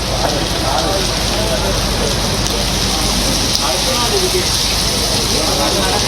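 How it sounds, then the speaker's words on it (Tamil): Moderate rain falls steadily in Chennai, a loud, continuous hiss of drops on surfaces that holds even throughout. "சுமார் 20 நிமிடங்களுக்கு மிதமான மழை பெய்ததால் குளிர்ச்சியான வானிலை நிலவியது"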